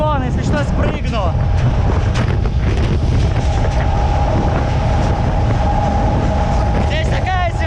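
A freight train wagon rumbles steadily along with a constant low roar, wind buffeting the microphone, and a few brief voices near the start and end.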